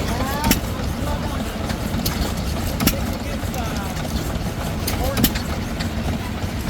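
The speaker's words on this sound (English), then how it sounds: "Oh, so that was a J.A. Fellows pump jack." A J.A. Fellows pump jack engine running at a country fall fair, a steady low mechanical drone with faint periodic knocks and occasional clanks, under background crowd noise.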